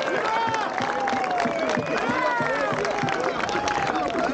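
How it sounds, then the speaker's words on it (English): Dense crowd applause and cheering fill a UConn football pep rally, a loud continuous wash of clapping with voices mixed in. "Let's give them a round of applause."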